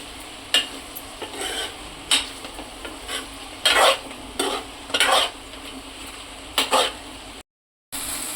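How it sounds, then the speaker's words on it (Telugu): Eggplant curry with chili powder gently stirred in a pan: slow, separate scraping and sloshing strokes roughly once a second over a low sizzle, with a brief silent gap near the end. "ఈ వంకాయలు చెదిరిపోతాయన్న భయంతో స్లోగా కలుపుతున్నానండి నేను"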